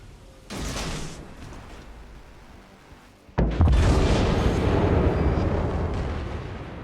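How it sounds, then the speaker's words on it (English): Battleship blown apart by a torpedo in the World of Warships naval game, with a rumbling muffled boom followed by a sudden heavy blast that roars loudly and slowly fades. "Enemy battleship destroyed."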